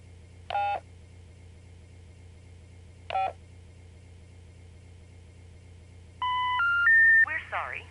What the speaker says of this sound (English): it's a 90s cell phone